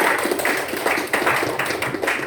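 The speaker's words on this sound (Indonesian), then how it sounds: "Beri tepuk tangan untuk Zahira." Brief applause in an Indonesian university classroom, with a few students clapping for a classmate; a steady patter of claps runs close by throughout, with some accented hits.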